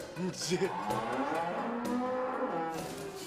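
A cow lows nearby in a few drawn-out, loud moos with short grunting breaks, standing alone without speech.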